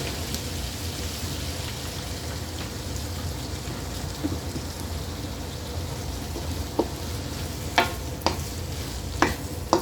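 Chicken gizzards frying in a pan after soy sauce is added, a steady dense sizzle with a few sharp clacks of stirring near the end, close and loud with no voices.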